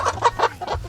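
Chickens being loaded for delivery in Cebu give quick repeated clucks close by, about five short bursts in a second.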